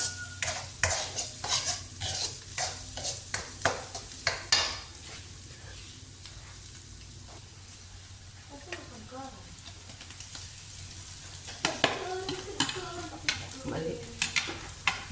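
Ginger, garlic and onion sauté in hot oil at home, with scraping stirring strokes and a steady low sizzle for the whole stretch, while a person talks over it.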